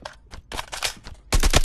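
Rapid gunfire in a close-quarters combat training video game, with a scatter of sharp shots followed by a louder, dense burst at the end.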